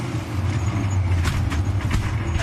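Onboard a NASCAR race car on the Charlotte Roval road course, the engine roars in a loud continuous drone with sharp bursts as the car crashes violently.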